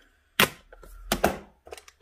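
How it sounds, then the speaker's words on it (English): A rubber stamp pressed twice onto a sheet of paper at a craft table, giving two sharp, close taps about a second apart, followed by a few lighter handling clicks. "we're going to stamp that right here"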